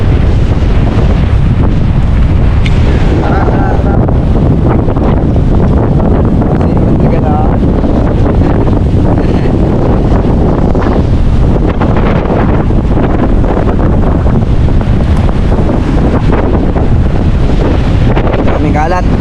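Strong storm wind batters a boat out at sea near a river mouth, a loud, unbroken roar of gusts buffeting the microphone for the whole stretch, with waves and rain starting under it.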